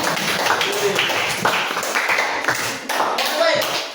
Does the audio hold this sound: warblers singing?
no